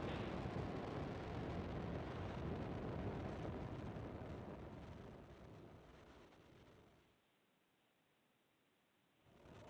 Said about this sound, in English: And liftoff of the Falcon 9.